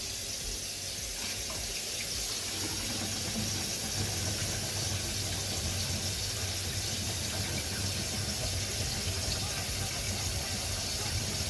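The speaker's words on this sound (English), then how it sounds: "turn the water on and just watch" Water runs steadily from a kitchen faucet into the sink while a garbage disposal is checked for leaks under it, a soft continuous hiss heard fairly faintly with a voice talking at times.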